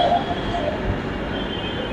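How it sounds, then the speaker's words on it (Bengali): A Dhaka metro rail train passing from the opposite direction gives a steady, fairly loud rumbling rush, heard from aboard another train, with a faint whine early on. "এটা হচ্ছে অপোজিট থেকে আসা একটা মেট্রো রেল"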